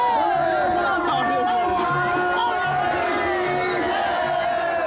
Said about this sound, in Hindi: लोगों का हौसला बना रहे, इसके लिए वहां मौजूद भीड़ ने जयकारे भी लगाए।